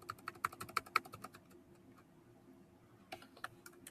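Quick bursts of computer keyboard typing while writing embedded Ruby code, crisp close key clicks in a rapid run, then a short pause before another flurry of keystrokes.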